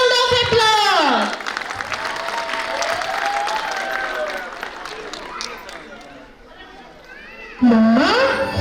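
Applause from the audience at a school annual function: a crowd claps steadily for several seconds, with a voice and an amplified announcer speaking over it at the start and end.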